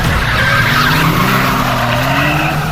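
A car in a video game skids through a city police chase, with a loud, continuous tire squeal over a revving engine lasting the whole stretch and no talking.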